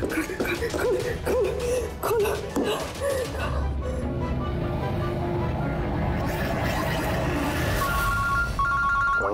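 A telephone rings in a CID crime drama scene, with short repeated electronic ring tones near the end following earlier voices and dramatic sounds.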